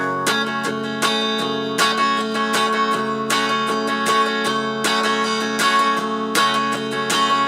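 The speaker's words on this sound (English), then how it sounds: "If I play what an acoustic guitarist or a strumming guitarist would play for this" Steady strummed guitar chords for the verse of a song ring out in an even rhythm, bright and full, with regular downstroke accents and no voice.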